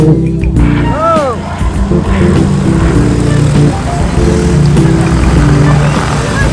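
An aircraft flies past at an air show in Avignon, giving a loud, steady engine drone with a sweeping pitch shift early on, while an announcer talks over it.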